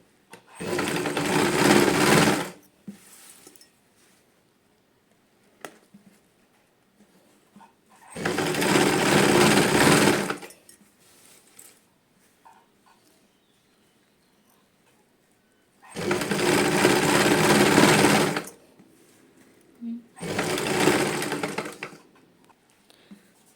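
A sewing machine stitches lace onto cloth in four separate bursts of rapid, even whirring, each lasting about two seconds, with quiet pauses between runs while the fabric is repositioned.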